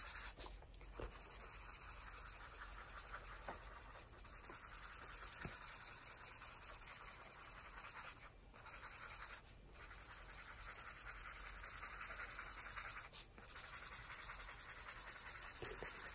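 Quiet scratchy strokes of an Arteza Everblend alcohol marker coloring across paper, repeated back-and-forth rubbing with brief pauses, close and alone without talk.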